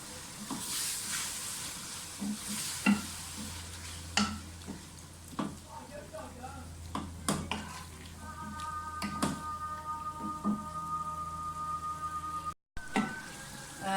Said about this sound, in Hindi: दही के साथ अच्छी तरह से कीमे की भुनाई कर लें